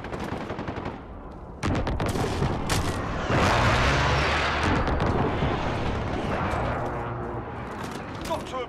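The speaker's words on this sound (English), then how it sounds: "Friendly precision airstrike inbound." Precision airstrike explosions hit in Call of Duty: Modern Warfare hardcore Domination, a sudden loud blast followed by a long rumbling barrage of booms and crackling gunfire.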